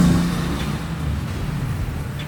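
Steady low rumble of road traffic at a busy intersection with passing engines, a continuous busy wash of car noise and no voices.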